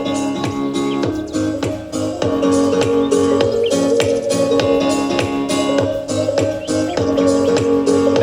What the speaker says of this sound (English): Here's little birds.